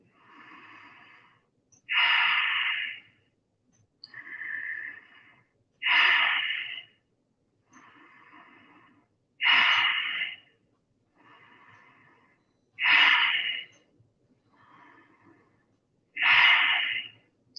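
Slow, deep breathing in time with shoulder shrugs during a morning exercise routine: five loud, airy inhales, each followed by a softer exhale, in an even rhythm with short silences between, close to the microphone.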